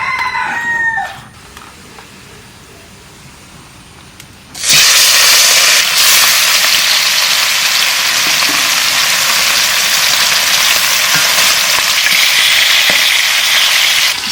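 Hilsa fish sizzling and frying in a pan, a loud steady broadband hiss that begins abruptly after a few seconds of quieter rustling and continues unbroken to the end.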